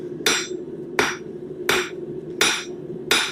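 Steady hammer strikes on a steel bar at the forge, five loud close metallic blows spaced roughly 0.7 seconds apart, each with a bright ring that carries between hits.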